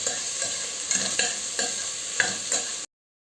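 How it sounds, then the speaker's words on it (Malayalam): Sliced onions and small shallots with green chilies sauté in a pan for Kerala-style kappa biriyani, a steady sizzle broken by several rhythmic stirring scrapes, close and fairly quiet, with no voices. "ഇതൊന്ന് വഴറ്റിയെടുക്കാം."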